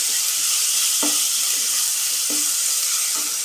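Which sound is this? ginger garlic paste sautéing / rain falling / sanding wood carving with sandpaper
ginger garlic paste sautéing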